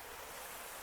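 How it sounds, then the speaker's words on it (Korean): A small natural stream in a mountain valley in Gapyeong, South Korea, running low with little water; a steady, close, broadband rush of flowing water fills the short moment with no other sounds. "자연계곡 물소리고요"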